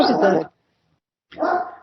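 A big dog gives two loud, close barks separated by a short silent pause, with no talk over them.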